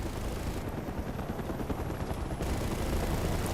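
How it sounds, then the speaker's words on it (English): A helicopter in the video game Mercenaries 2: World in Flames, a dense continuous rotor roar mixed with rattling gunfire-like bursts, loud and sustained without talk. "Interesting how this helicopter is aggroing on us."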